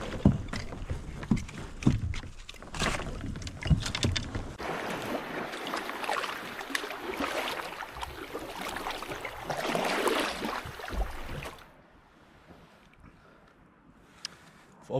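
Kayak paddling on warm open sea water, steady splashing and wash under wind for about eleven seconds, then stopping and leaving quiet sea ambience.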